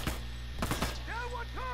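Gunshots in The Last of Us Remastered: a few sharp reports in a quick cluster near the start, followed by a voice talking briefly.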